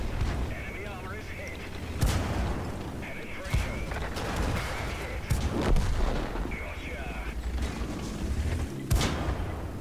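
Cromwell tank cannon shots boom in World of Tanks battle gameplay: several loud, sharp blasts at irregular intervals over constant engine rumble, with someone talking throughout.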